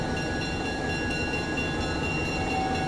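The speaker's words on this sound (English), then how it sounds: "Soon the diesel rolled in." Diesel locomotive rolling into a railyard, a loud steady rumble with sustained tonal engine whine and a continuous rolling clatter, close and unbroken throughout.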